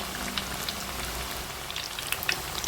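Ragi vadai fry in hot oil, a close, continuous crackling sizzle with scattered sharp pops throughout.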